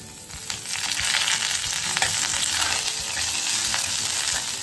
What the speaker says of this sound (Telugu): ఇప్పుడు పోపు ఎర్రగా వేగుతోంది.